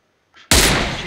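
A single loud, sharp gunshot from an M24 sniper rifle in the video game PUBG, preceded by a faint short click and followed by a long, bright decaying tail.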